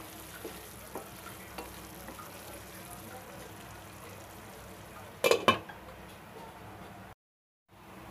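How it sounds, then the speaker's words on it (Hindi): A spoon stirs mutton tikka masala cooking in a pan, giving a soft low sizzle with faint scraping, a cluster of louder clinks near the end, then a brief silence. "इसे ढककर 5 से 7 मिनट तक पकाते हैं और बीच बीच में चम्मच चलाते रहेंगे।"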